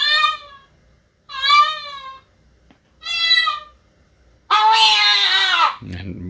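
Cat stuck in a closet meowing: three clear, drawn-out meows with pauses, then a longer louder wail, close and distinct.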